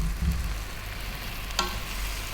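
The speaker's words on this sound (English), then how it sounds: "And then we're going to drop in our cauliflower." Cauliflower dropped into a hot pan, bringing a steady, close sizzle and a brief crackling burst partway through, with no talking.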